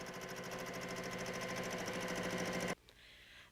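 A sewing machine quilting with the foot pedal held all the way down runs at full, steady speed in a dense mechanical chatter, then stops abruptly near the end and leaves a quiet pause.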